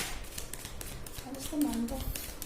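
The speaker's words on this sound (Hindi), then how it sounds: "मैं शफल करना शुरू करती हूँ कार्ड्स को।" Tarot cards shuffled by hand, giving a soft, continuous riffling and rustling close by, fairly quiet, with a voice speaking over part of it.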